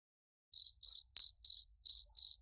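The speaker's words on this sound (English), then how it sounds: "Crickets." Crickets chirp in six evenly spaced bursts, each a bright pulsed trill, with short silent gaps between them and no other sound.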